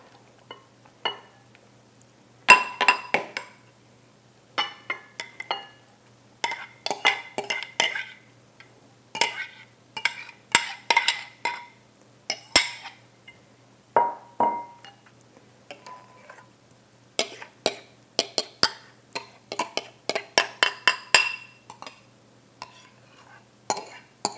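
Cucumber salad ingredients tipped and scraped together into a glass bowl, giving repeated bursts of clinking, scraping utensil contacts against glass in uneven clusters, fairly close, with a quiet pause in between and no talk.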